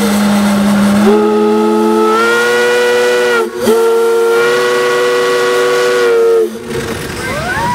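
A loud, steady steam traction engine whistle sounds in two long blasts with a brief break between them, rich and piercing, over a hissing background, at a steam threshers show.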